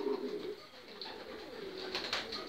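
Zureño pigeons coo softly in a pigeon loft, low throaty rolling calls repeating over quiet background noise.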